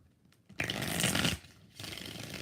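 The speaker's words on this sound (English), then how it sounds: "3 shuffles." Tarot cards shuffled by hand, a soft riffle rising to a loud, dense burst of flutter for under a second, then a pause and a second steadier stretch of shuffling, close by with no talking.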